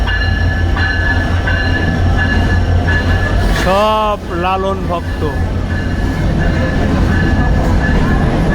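A heavily crowded passenger train runs during the Lalon fair with people riding on its roof, a loud steady rumble with a long horn blast partway through and someone speaking over it.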